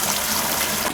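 Water drains through a ball valve from a kitchen sink, a steady, loud rushing flow that continues without pause.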